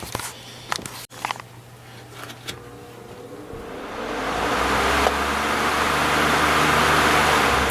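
A cleaned and oiled Dayton 12 inch fan with a tightened blade is handled with clicks and knocks, then switched on and winds up into a steady, growing whoosh of moving air.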